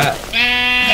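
A Minecraft sheep lets out one loud, close bleat with a wavering, nasal tone that lasts about half a second, after a brief softer sound.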